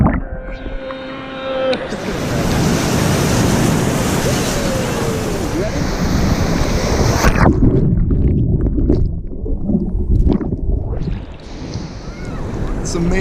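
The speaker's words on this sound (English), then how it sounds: "Ocean." Ocean surf on a beach, a loud broadband wash of breaking waves with wind buffeting the microphone, rising and steady for several seconds then easing into quieter rolling surf.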